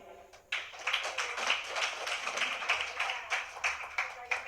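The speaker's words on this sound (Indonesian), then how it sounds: "Kita tepuk tangan sekali lagi." An audience at a religious debate claps hands after a speaker finishes, a burst of fairly close, distinct clapping starting abruptly and continuing steadily with audible individual claps.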